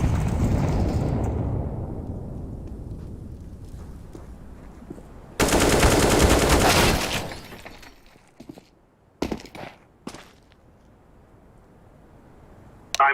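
Counter-Strike Global Offensive match audio with a loud burst of rapid gunfire and a grenade blast cutting in sharply midway, followed by scattered shots and clatter over ongoing game noise.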